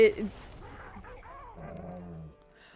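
Dog whimpers and yips, starting with a short bark and moving into whiny, whining sounds, close by and fairly quiet.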